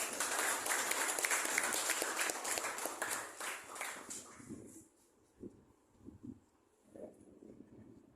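A high school class claps in a dense burst of applause for several seconds, then it thins out to a few scattered claps and quieter background sounds.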